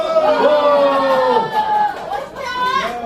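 Members of a club group shout together in a loud, sustained collective cheer, with voices rising in pitch and then a second burst of shouting near the end, amid crowd chatter.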